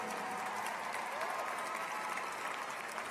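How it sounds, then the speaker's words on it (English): A large audience at a university graduation ceremony applauds steadily, dense clapping filling the whole stretch at an even, loud level. "Give them a round of applause."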